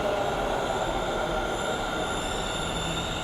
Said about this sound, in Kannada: ಟ್ರೈನ್ ಬರೋದು ವಿಡಿಯೋ ಮಾಡಬೇಕು